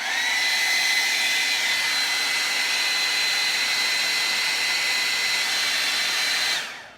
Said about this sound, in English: You can kind of see how that hair dryer is kind of blowing that around